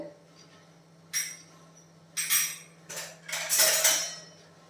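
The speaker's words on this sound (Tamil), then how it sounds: "இப்போ வந்து நல்லா மிக்ஸ் பண்ணிடலாம்" A spoon scraping and clinking around a pot while mixing fermented idli batter. Four separate scraping strokes come close by over a low steady hum.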